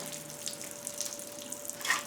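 Antifreeze from a 2007 GMC Yukon engine being torn down runs steadily onto the shop floor, a continuous trickling splash heard close and alone, with a faint steady hum beneath.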